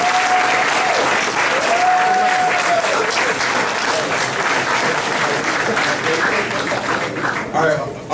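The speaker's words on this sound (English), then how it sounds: "everybody give him a hand" A crowd at a school locker room unveiling applauds a class, clapping steadily and densely throughout, with voices and cheers mixed in under the clapping.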